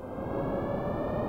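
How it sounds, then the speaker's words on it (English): Siren-like music from the video game Kirby Super Star: a steady, sustained droning tone with rich harmonics, held evenly and fairly quietly throughout the short moment. "and it's just like a siren"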